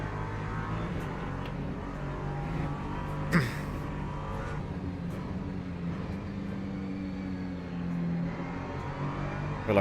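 Race cars roar past at speed on a circuit, one of them an LMP2 prototype, with loud continuous engine drone and shifting pitch as a car is overtaken up close.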